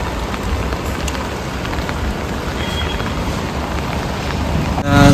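Steady, heavy rain pours down outdoors during a day out around Kuttiady and Peruvannamuzhi, a loud, dense, unbroken hiss close by with no voices.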